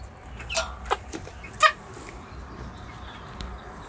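A hen clucking in a farmyard coop, a few short scattered clucks and squawks, close but fairly soft, over quiet background rustle.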